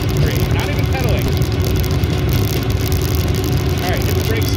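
Copper electric chopper bike cruising on motor power alone in mode 3 with no pedaling, giving a steady, loud rush of wind and road noise over a low motor hum that runs unbroken throughout.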